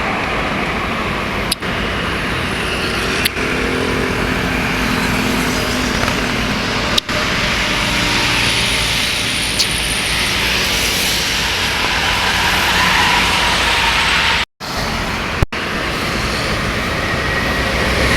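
Intercity buses arriving from Jakarta roll past on a road into Palembang in the morning, a steady broadband rumble of heavy engines and tyres that holds throughout, broken by a few sharp clicks.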